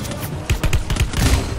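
Rapid bursts of gunfire from the battle royale game Free Fire crackle in quick succession with low thumping impacts, loud and close, in a continuous volley.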